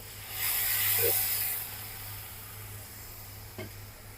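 Water poured into hot spiced oil for a Bengali sweet pumpkin vegetarian curry gives a loud hissing sizzle that rises quickly, then fades into a steady simmering background with a faint clink near the end.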